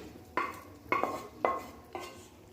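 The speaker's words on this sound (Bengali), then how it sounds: "এবার অল্প একটু নাড়াচাড়া করে এটা ঢাকা দিয়ে কিছুক্ষণ রান্না করে নিচ্ছি" Paneer stirred into simmering gravy in a pan for a restaurant-style mixed vegetable curry, heard as four distinct scraping, clinking stir strokes at a steady pace, close and fairly quiet with no talking.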